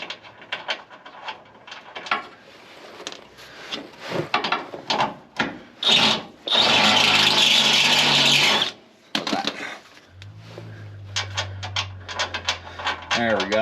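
A power drill bores holes for a Desolate Motorsports transfer case skid plate on a Ford Bronco, giving a loud, steady grinding whine of about two seconds amid shorter scraping and handling noises.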